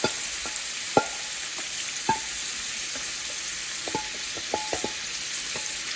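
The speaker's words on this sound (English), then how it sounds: "And I'm going to fry this up." Beef sizzles and crackles in hot oil for Guyanese-style soup, a steady frying hiss broken by occasional sharp taps of a utensil stirring in the pan.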